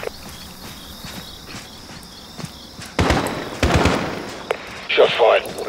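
Gunfire in Call of Duty: Modern Warfare, during the Going Dark mission on Realism, with a few sharp, loud bursts in the second half over a quiet, steady insect-like ambient background.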